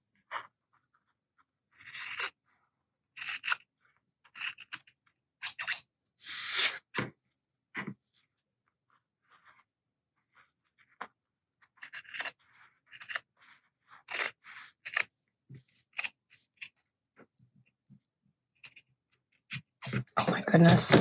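Scissors cut through paper in short crunchy snips during craft work on a corset tuck spot journal topper, coming in irregular bursts with quiet gaps and a louder rustle at the end.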